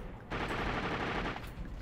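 Gunfire in The Darkness 2 erupts as a dense, loud, continuous burst after a brief quiet start, rapid-fire shots blurring into a sustained roar.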